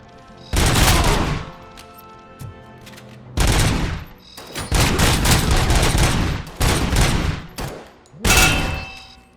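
Gunfire in the shooter game Robocop: Rogue City, with several loud bursts of rapid shots separated by short pauses, close and punchy, with echoing tails between volleys.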